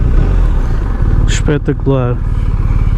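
A 2021 BMW R1250 RT motorcycle riding in Dynamic mode, its engine a loud, steady close drone with wind rush throughout, while someone speaks briefly over it.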